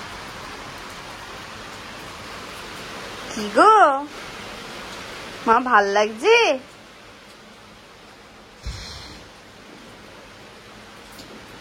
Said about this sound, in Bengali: এই যে বৃষ্টি দেখছে, বেশ বৃষ্টি পড়ছে আজকে